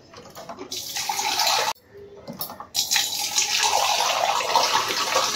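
Drinking water gushes loudly in a kitchen, a dense splashing stream that breaks off briefly partway through, then resumes strongly and keeps flowing to the end, with no voices over it.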